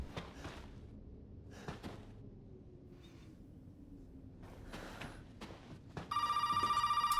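A telephone rings in the horror video game Resident Evil 7, a bright electronic ring that starts near the end after quiet breaths, sighs and scattered game noises.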